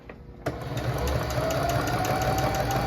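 A sewing machine hems a gown made from more than ten yards of fabric, starting up after a short quiet moment and then whirring steadily and close for the rest of the clip, with no speech.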